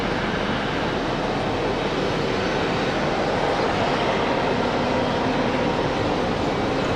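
A jet airliner roars during takeoff at Raleigh-Durham airport, a broad, steady, loud engine rumble filling the whole stretch without a break, with no voices over it.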